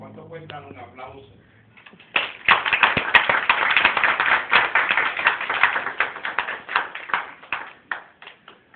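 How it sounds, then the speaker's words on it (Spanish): Guests at a sweet sixteen party break into loud, brisk clapping of many hands that keeps going for several seconds, with a voice speaking briefly just before it starts. "¿Cuánto cuesta un aplauso?"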